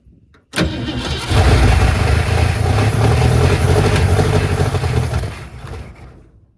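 A 1967 Mustang with a 289 V8 cranks briefly and then fires, settling into a loud, steady idle close by, with the rumble fading toward the end.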